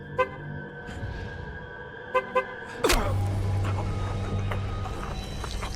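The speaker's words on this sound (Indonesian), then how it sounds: "dengan menghidupkan alarm mobil untuk mengalihkan perhatian" A car alarm starts up suddenly partway through, a loud, steady cycling electronic tone from a nearby vehicle that keeps sounding to the end, after a few faint clicks and a low background hum.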